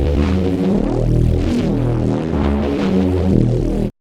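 Bass run through an Opalize harmonics plugin, a dense, throbbing, buzzy low line with added upper harmonics, steady and loud throughout, alone with no talk.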